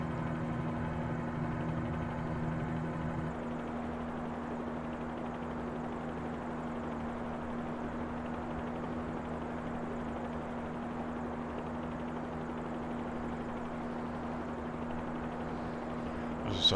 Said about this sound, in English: As I say, this is a helicopter I'm using today.